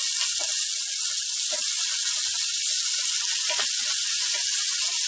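Carrots sizzle steadily as they sauté in a hot pan, a constant close hiss with a few faint pops and crackles and a voice speaking briefly over it.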